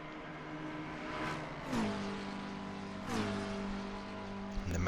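Race cars in Assetto Corsa Competizione, including a Mustang, roar past in turn on the Nordschleife, each engine note sweeping up and then dropping sharply. The sustained engine drone continues between passes, with no talk.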